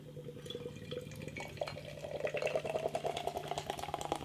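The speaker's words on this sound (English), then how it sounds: "I'm giving this a right old rigorous pour." Salama Neo Elektro IPA from a can is poured hard and fast into a glass, giving a close, trickling, glugging liquid stream that builds and fizzes as the glass fills.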